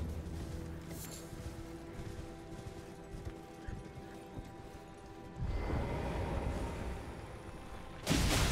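Horse hooves clip-clop steadily amid the Elden Ring game soundscape, with a louder rumbling burst later and a sudden loud crash near the end.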